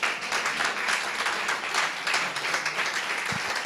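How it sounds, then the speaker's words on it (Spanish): A church congregation applauding, a dense wash of clapping that stays steady and fairly loud for several seconds. "Denle un aplauso a Jesús."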